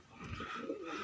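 Wild pigeons cooing while feeding, a few soft low coos rising and falling, close but quiet, with light rustling and no speech.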